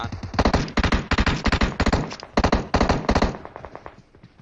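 Rapid bursts of automatic gunfire in an online shooter game, loud and close, firing in repeated volleys of quick shots with brief pauses between them, fading into a few softer shots at the end.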